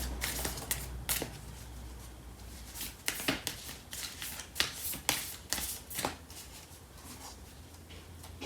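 Tarot cards are shuffled by hand in a quick series of crisp, close riffling bursts and slaps, ending as a single card is drawn from the deck.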